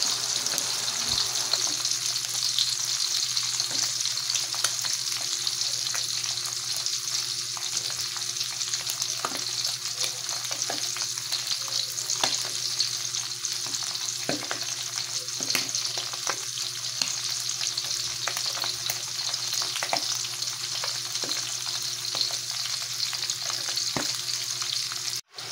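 Crushed garlic fries in a pan with oil, giving a continuous close sizzle and crackle that holds steady for the whole stretch, with faint stirring scrapes and no talking.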